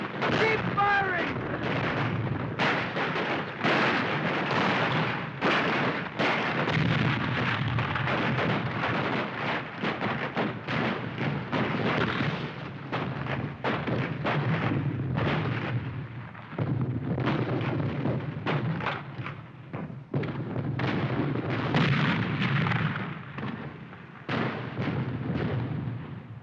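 A war film battle scene is full of dense gunfire and booming artillery, with rapid sharp bursts and heavy blasts crowding together nearly nonstop, while shouting voices come through in places.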